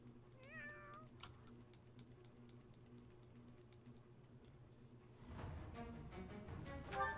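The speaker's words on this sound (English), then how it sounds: "Give me a meow" A cat meows in Fire Emblem: Three Houses, a short rising-and-falling call near the start over a steady low game hum, followed by clicks and a louder burst of game noise.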